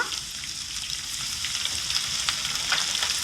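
Crushed ginger, garlic and curry leaves, with slit green chilies, fry in hot oil for chicken 65, giving a steady, close, even sizzle with faint crackles and no voices.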